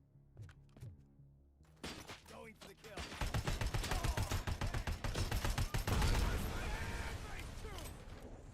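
Rapid bursts of automatic gunfire from video game weapons with heavy recoil, starting after some quieter shots and thuds, then sustained dense firing that stays loud throughout.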